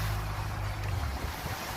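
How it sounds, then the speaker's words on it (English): Choppy ocean water slaps and churns around a small fishing boat out in open sea. A continuous, close wash of waves mixes with low rumble and wind buffeting. No one speaks. "Choppy water, huh?"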